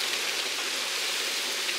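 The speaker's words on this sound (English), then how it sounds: "it started raining like crazy" Heavy rain pours down in a steady, dense hiss that stays loud and even throughout, with no voices over it.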